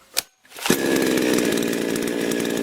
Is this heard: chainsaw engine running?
yes